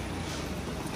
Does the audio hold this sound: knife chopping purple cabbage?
no